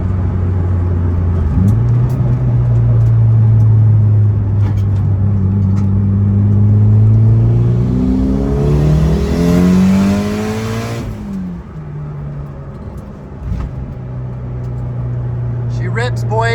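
A 2G DSM car with a 5-speed manual accelerates hard, its engine revving up through a climbing whine, dropping for a shift, then pulling again, loud and close from inside the cabin.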